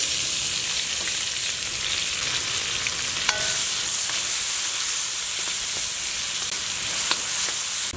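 Onions, pimento peppers and scallions fry outdoors for a goat curry, giving a loud, steady sizzle and hiss throughout with a few faint clicks of stirring.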